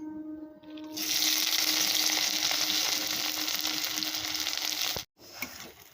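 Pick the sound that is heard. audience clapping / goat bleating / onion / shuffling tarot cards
onion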